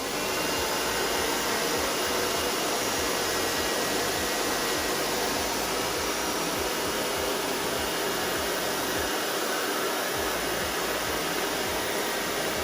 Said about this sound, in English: When I turn my hairdryer on, I'm going to be on high heat.